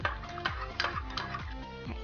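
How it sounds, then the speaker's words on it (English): A spoon stirs a stock cube into 250 ml of boiling water in a heat-proof jug, making steady, rhythmic clinking and scraping strokes about every half second, close up, with no talking. "add in 250 ml of boiling water and stir to dissolve"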